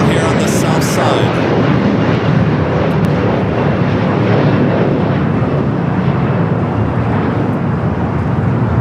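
A large airliner rumbles and roars at LAX, a loud, steady, broadband engine noise holding throughout, with wind buffeting the microphone and a brief faint voice near the start.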